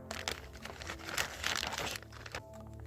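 Close, busy crinkling of a plastic bag as a ration heater pad is pushed inside after water is added, with soft crunches and rustles throughout.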